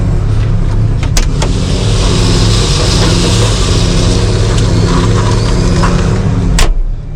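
Steady, loud engine drone from a farm vehicle driving a half-mile stretch back to a stone pile, continuous and close, with a few sharp clicks and knocks over the hum.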